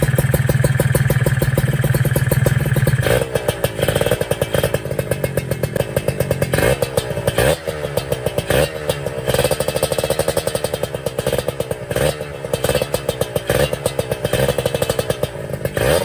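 Motorcycle engine fitted with a new block and head, running loud and close with a rapid rattling pulse, the pitch shifting as the throttle is blipped and revved.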